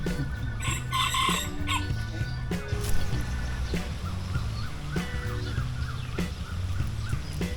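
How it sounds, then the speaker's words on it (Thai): Peacocks, both white and ordinary-coloured, call at a farm garden, giving repeated loud honking, wailing cries in overlapping series over a steady outdoor background. "นกยุง"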